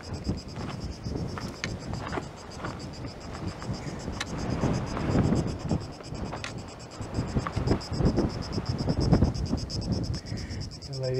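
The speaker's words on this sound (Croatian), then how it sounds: "Ovaj vjetar čak i godi, iako za zvuk vjerojatno loš." Wind gusting across Sveti Nikola peak on the island of Hvar, above the channel between Hvar and Brač, buffeting close against the microphone in a steady, roaring rush that swells and eases in uneven surges.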